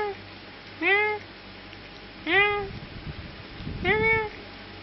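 A domestic cat meows three times, each a clear, drawn-out call with short pauses between, close to the listener over quiet room noise.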